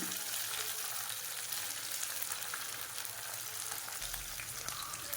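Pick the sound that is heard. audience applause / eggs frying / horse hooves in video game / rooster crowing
eggs frying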